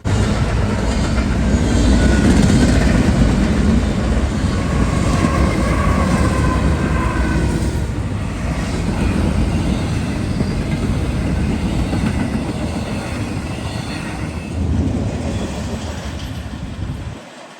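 A Norfolk Southern intermodal freight train rolls past with a GE Evolution locomotive leading and a rebuilt AC44C6M second, a steady loud rumble with clattering wheels and squealing tones that eases slightly toward the end, no talk.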